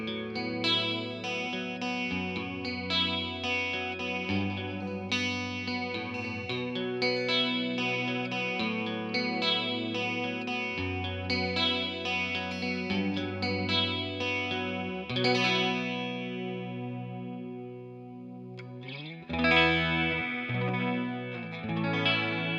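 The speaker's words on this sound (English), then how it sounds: "kind of chorusy. Sounds like a Dimension C chorus." Electric guitar played through a delay pedal set for slow, deep modulation, giving a warbling chorus-like shimmer over sustained chords and melodic lines, steady and alone.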